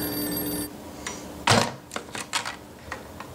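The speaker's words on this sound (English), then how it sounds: "I should probably just answer the phone." A telephone bell rings briefly and then stops, followed by several clicking, clattering handling sounds up close.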